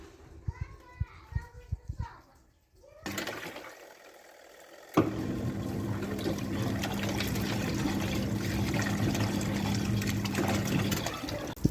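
Water runs and splashes steadily while a rug is washed outdoors. Children's voices and playful sounds come first, then the broad, continuous wash of water takes over, with a low hum beneath it.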